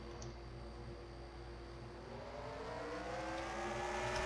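NASCAR Xfinity race cars accelerate at Road America, a loud sustained engine roar with pitches climbing steadily as the cars build speed, several engines layered together without any voices.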